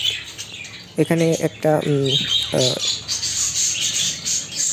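Budgerigars in a breeding setup with fostering pairs give a busy wash of chirps and chatter throughout, while someone speaks close by in short bursts over the birdsong.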